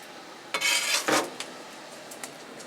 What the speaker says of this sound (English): So I'm going to go ahead and pull this top damper